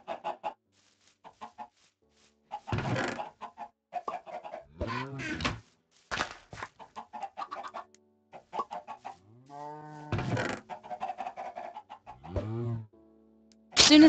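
A chicken in a Minecraft-style video game clucks in short, clipped bursts spread across the stretch, with quiet gaps between calls and some other game sounds mixed in.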